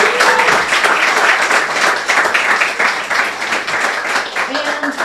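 A studio audience claps in a thick, continuous burst that stays loud and close, with voices cheering and talking through the applause.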